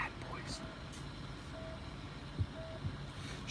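Three short, faint electronic beeps sound at steady intervals over low traffic rumble, with a couple of dull thumps.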